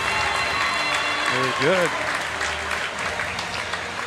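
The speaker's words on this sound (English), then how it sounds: "Round of applause for Alexa Dillinger." An audience at a basketball tournament applauding an honored player, a steady roar of many hands clapping throughout, with a brief spoken voice rising over it partway through.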